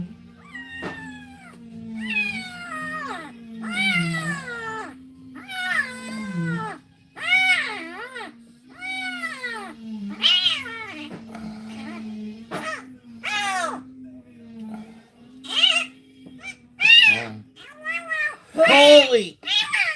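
A rescued kitten meows repeatedly in loud, insistent cries, one after another for twenty seconds, with a steady low hum underneath throughout.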